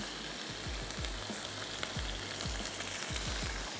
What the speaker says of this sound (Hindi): इसको अच्छे से भूनेंगे जब तक कि थोड़ा सा इसका एटलीस्ट कलर चेंज हो मसाले ऐड करने से पहले।